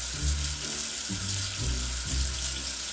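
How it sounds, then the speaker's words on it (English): Water pours steadily in a video game as soap is rinsed off a letter, a continuous tap-like rush with a bubbly low gurgle, close and loud with no talking. "Wash away the soap with water."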